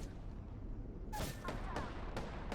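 Gunfire in the video game Apex Legends: a few sharp, crackling shots burst in after a quiet second over low game rumble, with bright impacts repeating at irregular intervals.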